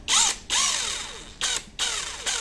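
JLD 88V 650 Nm cordless impact wrench on its lowest speed setting whirring in short high-pitched bursts, revving up and winding down several times, loud and close with no talking.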